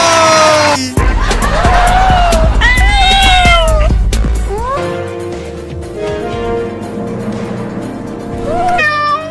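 Several cats meow and caterwaul loudly and repeatedly nearby, a string of rising and falling yowls with brief gaps and some background voices mixed in.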